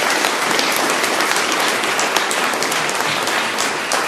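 An audience at a school board meeting claps in steady, loud, dense applause that runs throughout without pause, with faint talk beneath.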